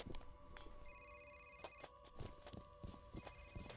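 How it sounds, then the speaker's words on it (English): A telephone rings in the video game Ahhhh Real Monsters, giving repeated tonal trilling bursts, faint and steady over soft thuds and footstep-like knocks. "Also, there's a phone ringing."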